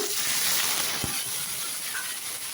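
Curry leaves sizzle in hot oil while tempering for mor kuzhambu, giving a steady close hiss with one dull knock near the middle and no speech.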